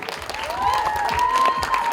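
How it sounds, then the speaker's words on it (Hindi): An audience at a film teaser launch for Border 2 claps loudly and continuously, a dense wash of applause that swells slightly and holds steady throughout. "जोरदार ताली होनी चाहिए डायरेक्टर अनुराग सिंह के लिए"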